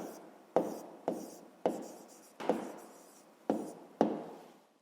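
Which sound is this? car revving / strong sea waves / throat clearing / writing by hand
writing by hand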